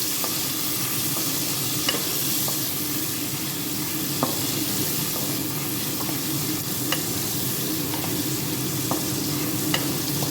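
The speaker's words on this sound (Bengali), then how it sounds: "এই পেঁয়াজগুলোকে প্রায় 2 মিনিটের মতন আমি ব্রাউন হওয়ার মতন ফ্রাই করে নেব" Chopped onion sizzles steadily in hot oil in a pan, a dense, even frying hiss close by with a few faint clicks of a spoon stirring, no voices.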